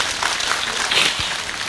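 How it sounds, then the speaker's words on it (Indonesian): At a live evening gathering in Tungkulrejo, Ngawi, an audience claps for Mbah Kung, a brief, steady wash of applause without a clear break. "tepuk tangan kagem Mbah Kung."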